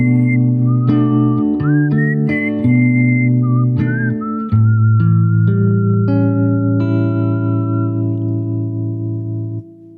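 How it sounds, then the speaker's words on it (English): Melodic human whistling carries a solo line over a sustained song backing, the whistled notes bright and clear with slides between pitches, loud and continuous for the whole stretch. "I think the whistle solo is a lost art in music today"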